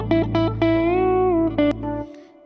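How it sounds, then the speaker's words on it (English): A pitch-corrected, robotic-sounding sung vocal processed with Antares Auto-Tune 8, with stepped notes and a washy reverb tail, heard alone. "Let's put some reverb on that as well."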